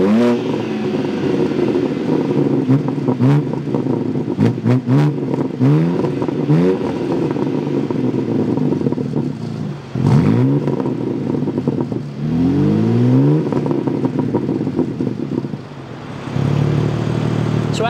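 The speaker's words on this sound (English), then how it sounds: "So let's take a quick listen to an exhaust clip." A 2023 BMW M2 with its inline-six and quad exhaust revs repeatedly in Sport Plus mode, sharp rising blips with crackle between them, loud and close, with no talking.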